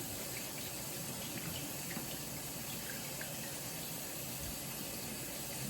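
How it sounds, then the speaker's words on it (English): Water pours steadily from a kitchen tap while hands are washed during home cooking, a faint, even rushing hiss that runs unbroken throughout with no talking. "Gonna wash my hands again"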